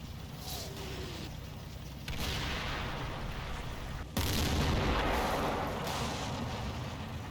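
An artillery barrage falls in the Combat Mission war game during Operation Epsom, a continuous dense rumble of distant blasts that grows louder with heavy impacts at about two and four seconds, with no talk.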